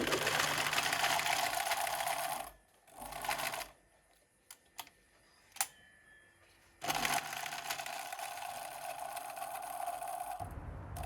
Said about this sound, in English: So I just used a straight stitch to go around the sides of the leaf.